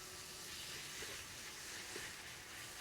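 Pork browning in a pan for Chinese spicy noodles, ants climbing a tree: a faint, steady sizzling hiss continues evenly throughout with no talking.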